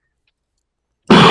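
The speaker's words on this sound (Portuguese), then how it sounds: "eu estou ainda tossindo" A man in an online meeting coughs or clears his throat once: a loud, close burst that cuts in abruptly after a second of silence and runs to the end.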